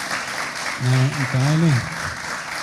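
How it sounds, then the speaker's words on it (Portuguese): Audience applause at a ceremony in Jataí, Brazil, honouring a state deputy with honorary citizenship, a steady clapping wash that continues beneath someone speaking Portuguese. "queria pedir uma salva de palmas para você aí"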